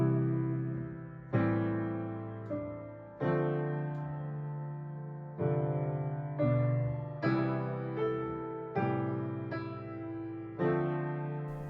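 Solo piano plays a song with full chords in the left hand: a thick, ringing chord struck every second or so, each decaying before the next, with no voices.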